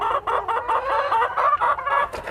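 Egg-laying hens on a farm cluck and squawk close by, a busy run of overlapping calls rising and falling with only brief gaps, loud and with no talk.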